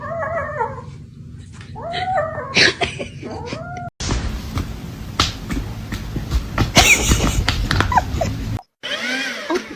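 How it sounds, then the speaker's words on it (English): A cat yowls and caterwauls indoors in loud, wavering howls, alongside dog-like whimpers and yips, with a person's voice and household noise mixed in. "What is wrong with that cat?"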